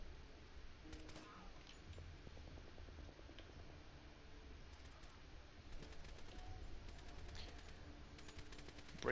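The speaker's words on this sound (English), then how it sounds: "that noise that you hear to the west is the machine gun fire" Distant machine gun fire in the tactical game Door Kickers 2, faint repeated bursts crackling intermittently over a low steady background rumble.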